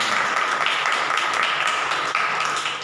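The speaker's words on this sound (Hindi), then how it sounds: "बजाओ ताली, जोर से बजाओ।" A church congregation clapping loudly, a thick, continuous roar of hands filling the room at steady loudness, with little else heard above it.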